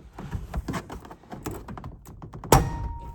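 Muffled tapping and scraping handling noises on a 2001 Chevrolet Silverado 1500 interior panel, then a sharp plastic pop as a trim clip snaps loose near the end.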